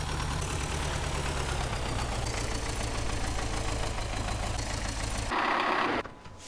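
Kamaz truck engine idling in the video game Farming Simulator 2015, a steady low rumbling drone with a rhythmic throb, abruptly cutting off near the end.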